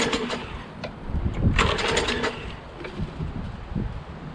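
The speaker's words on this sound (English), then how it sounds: "Okay, let's see if it starts now. I'm just gonna pull it first, okay?" A Craftsman Briggs Quantum front-wheel-drive lawnmower engine with a dirty carburetor sputters and coughs while being started, giving irregular mechanical bursts and rattles close up, loudest midway, that never settle into a steady run.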